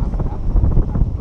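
Strong wind on a viewing platform at the Sky Dome buffets the microphone in a continuous low, rumbling roar that rises and falls slightly and drowns out other sound.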